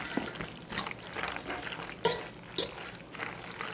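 Eggs whisked into macaroni noodles in a bowl: a close, wet stirring and sloshing with a few sharp clinks of the whisk against the bowl, uneven in rhythm and alone.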